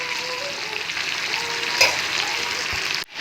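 Onions fry in hot oil with cardamom, bay leaf and cinnamon, giving a steady, close sizzle with a brief sharp crackle midway and a sudden dip near the end; no one speaks.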